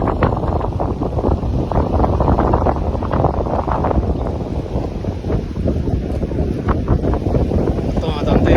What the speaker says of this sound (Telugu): కువైట్లో భారీ గాలి దుమ్ము